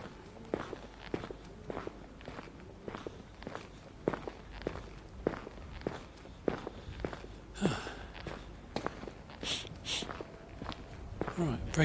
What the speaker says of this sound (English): My footsteps make me sound like the last gunslinger in town.